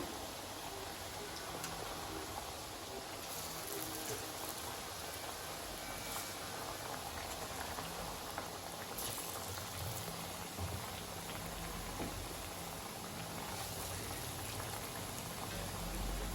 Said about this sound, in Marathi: तर आता याला छानपैकी तळू देऊ